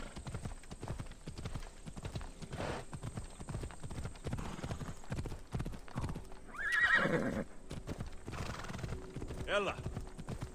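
A horse in Assassin's Creed Odyssey gallops over rough, hilly terrain with rapid, steady hoofbeats and a loud whinny midway, while a voice is heard at times.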